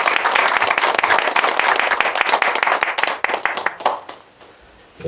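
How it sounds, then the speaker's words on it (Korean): A church congregation claps to welcome a new pastor at an installation service, crisp hand claps loud at first, then thinning out and fading to a few scattered claps. "우리 박수로 환영하고 축복하겠습니다."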